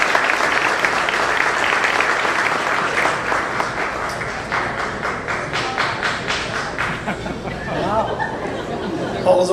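Gala audience at Ohio University Eastern's 60th anniversary applauding dignitaries, a full room of clapping with some individual claps standing out and chatter rising as it fades near the end.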